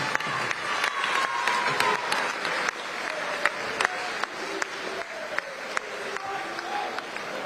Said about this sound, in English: may we please have a round of applause to these two fighters